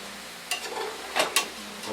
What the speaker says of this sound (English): watching the juices sizzling and what have you.